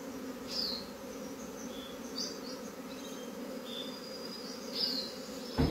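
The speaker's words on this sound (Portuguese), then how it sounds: "Quantas abelhas." A swarm of honeybees moving into a wooden hive box drones in a continuous, moderately loud buzz. Individual bees zip past the microphone now and then, with no talk.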